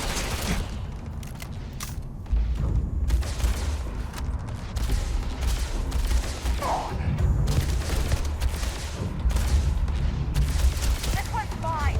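Repeated gunfire from a weapon in the Starfield video game sounds as sharp, irregular shots and booms over a rumbling game backdrop, with a player talking at times.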